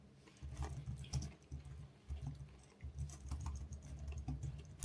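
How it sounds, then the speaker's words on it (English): Fingers tap on a computer keyboard in soft, uneven bursts of clicking keystrokes, fairly quiet and close, with short pauses between runs. "Oh, my typing is so slow because..."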